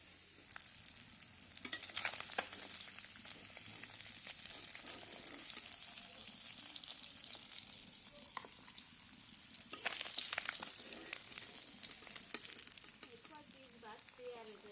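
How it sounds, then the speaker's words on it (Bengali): Quiet, constant sizzle of fish frying in a pan, with occasional clinks and scrapes of utensils; no one speaks. "মাছ ভাজা হইতেই থাক"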